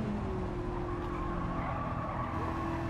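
Tires scrub and squeal steadily as a car is trail braked into a corner in Gran Turismo 7, driven with a Logitech G29 wheel, with the engine droning under the continuous, loud skid.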